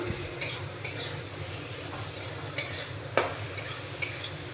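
Mango rice with mango pieces and salt is stirred in a hot pan, a steady soft sizzle under regular spatula scrapes and light taps against the pan; no talking.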